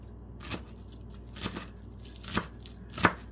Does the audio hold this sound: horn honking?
no